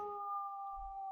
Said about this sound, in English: don't mind my phone, making a nice wolf howl in the background